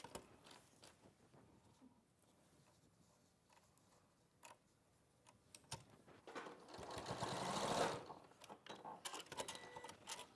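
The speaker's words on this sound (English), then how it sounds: "just stitching down the middle" A sewing machine stitches down the middle of fabric to form a pleated effect, running in quiet ticking bursts and then a louder, rapid whirring stretch before slowing into scattered clicks.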